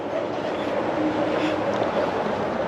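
Yamaha XSR900 CP3 triple engine idling after a cam chain adjustment, giving a steady close mechanical hum with a faint rattling whir, continuous and even with no talk.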